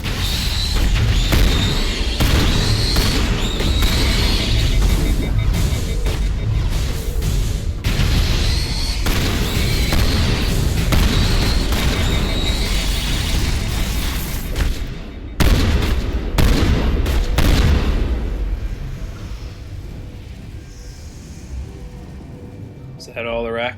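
Shotgun blasts in the video game Mass Effect, with heavy booming shots repeating over dense battle noise alongside ongoing talk, then thinning toward the end.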